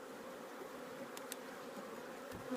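Honey bees hum faintly inside a crowded hive box being lifted off a super, a low steady buzz with a few brief clicks and knocks.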